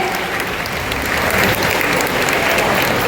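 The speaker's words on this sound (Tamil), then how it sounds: "உங்களுடைய பலத்த கைத்தட்டல் கொடுப்பதற்கு அன்புடன் கேட்டுக்கொள்கிறேன்." Loud, sustained applause from a large crowd at a women's day event and conference, steady dense clapping filling the whole stretch without any talking.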